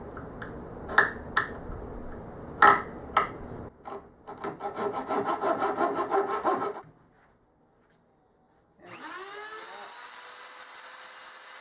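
Hand saw cutting a small corner off scrap plywood: a few sharp taps, then a quick run of rhythmic rasping strokes that stops, a short silence, and a fading hum of a tool afterwards.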